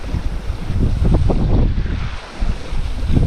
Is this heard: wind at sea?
yes